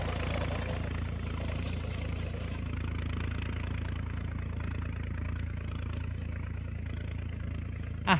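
A John Deere 5065E tractor engine idles with a steady low rumble, constant and fairly close, running unchanged throughout.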